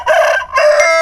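A young medium-sized Bicol native rooster crows close and loud, two quick harsh bursts in about a second.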